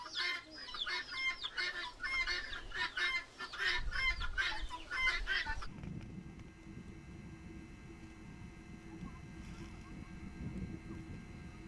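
Chickens cluck beside a small mud coop at an earthen house: busy, close clucking for about six seconds, then quieter background murmur with low rumbling.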